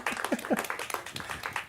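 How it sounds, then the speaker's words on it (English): Club members at a general meeting give a short round of applause, scattered clapping mixed with a cheer and talking voices. "how about a round of applause for John?"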